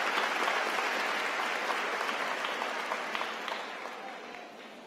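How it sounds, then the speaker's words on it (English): A large audience at a university graduate commencement gives warm, sustained applause for the NCCU University Choir, dense and even before slowly fading toward the end. "NCCU University Choir and Ms. Roberta Laws another warm round of applause."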